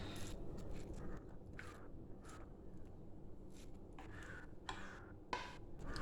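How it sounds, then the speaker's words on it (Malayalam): A fork stirs semolina idli batter in a bowl, giving quiet, repeated scraping clicks and soft wet ticks in an uneven rhythm, close and faint. "നന്നായിട്ടൊന്ന് ഇളക്കി കൊടുക്കുക."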